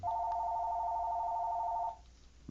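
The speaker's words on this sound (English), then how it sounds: "We had a phone call." An office telephone rings with a single steady electronic tone for about two seconds, then stops, fairly faint with no talk.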